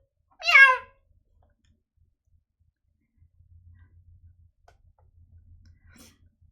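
A single clear cat meow from the Pokemon Ultra Sun video game rings out near the start. It is followed by quiet, sparse low clicks and a faint rumble.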